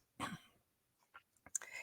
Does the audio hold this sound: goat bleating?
no